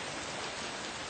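Heavy rain pouring down in a dense, continuous hiss that is steady and enveloping throughout a brief stretch.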